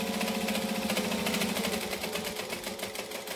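Sewing machine stitching a backpack seam, backstitching at both ends, a fast, even mechanical whirring with a rapid steady pulse, close and moderately loud, easing slightly toward the end.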